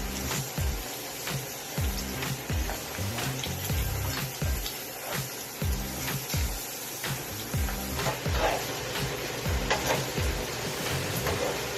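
Bacon pieces frying in a pan give a steady hiss and crackle throughout, under a regular series of low thumps and scattered clicks from utensils.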